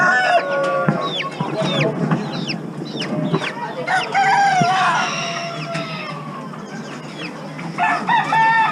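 Several chickens at a small animal auction, Brahma among them, crow and cluck over and over, some calls near and loud, others overlapping from farther off against a busy, steady crowd background.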